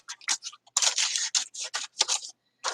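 Scissors cutting through a brown paper sack, a string of short crisp snips and crackling paper bursts separated by brief pauses, close and clear with no talk.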